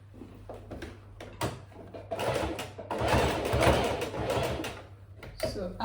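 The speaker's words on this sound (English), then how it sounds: "So we'll go and run the stitches on a machine" A sewing machine runs stitches along strips for a braided headband, a mechanical whirring burst in the middle preceded and followed by scattered clicks and handling noises, close by.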